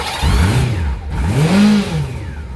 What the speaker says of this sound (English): I wonder if my bike even starts